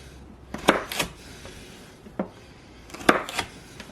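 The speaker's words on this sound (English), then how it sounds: "I got to dice the carrot" A knife dices a carrot on a cutting board in a few sharp, separate chops spaced apart, crisp and close, with quiet gaps between strokes.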